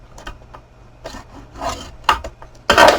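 Paper being scored at one-inch intervals with a tool for a Halloween treat box, heard as a few short scraping rubs spaced across the moment, building to a louder, longer rasp at the end, with no talking.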